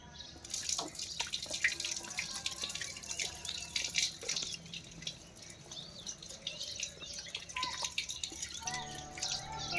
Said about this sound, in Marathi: मड निघाल्यावर आपल्याला हात धुवून घ्यायचे